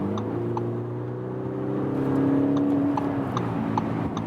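An Audi SQ5 V6 TDI diesel engine hums steadily, then rises in pitch and strength as it accelerates, with faint clicks over the drone; no voices.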